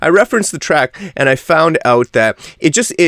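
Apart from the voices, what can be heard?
No distinct noise like a dog, phone or traffic.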